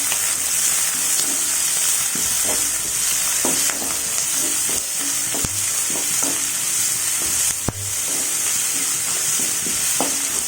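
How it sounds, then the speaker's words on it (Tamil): Chopped onion and curry leaves fry in hot oil, a loud continuous hissing sizzle with intermittent spoon knocks and scrapes against the pan throughout. "வெங்காயம் கறிவேப்பிலை சேர்த்துக்கிறேன். இப்போ நல்லா இது வதக்கிடலாம்."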